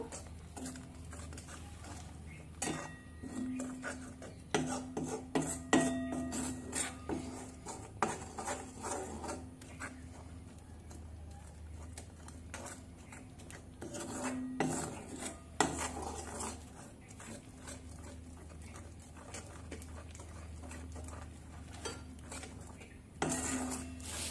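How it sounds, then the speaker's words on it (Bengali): Cocoa powder stirred into homemade chocolate in a pan off the heat, a spoon clinking and scraping against the metal in uneven bursts, close and moderately loud, with no talking. "কোকো পাউডার দিয়ে ভালো করে মিশিয়ে নেব।"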